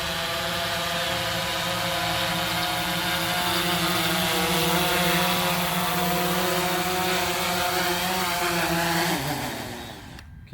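A DJI Phantom 4 Pro V2 drone coming in for a precision landing in an open field, its rotors giving a steady close whine with droning tones that drop in pitch near the end as the motors spool down and stop.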